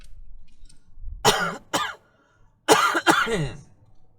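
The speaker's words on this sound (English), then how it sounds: "now it's my turn to cough 5 times" Four harsh, forceful coughs close by during a drive-through COVID-19 test, in two pairs separated by a short pause, with quiet room noise between.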